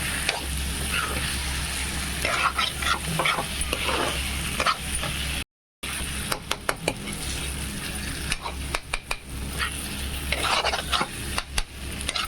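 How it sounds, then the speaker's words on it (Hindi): Egg and potato pieces sizzle and fry steadily in a pan for an anda aloo curry, with repeated scraping strokes of a stirring spoon against the metal throughout and a brief gap midway. "अंडा आलू को सब भूज लीजिए"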